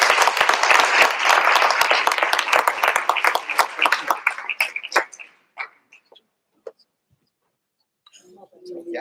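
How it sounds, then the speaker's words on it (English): A room full of people at a school board meeting applauding students, loud steady clapping that thins out into scattered claps and fades to near silence. "let's give all these students another round of applause."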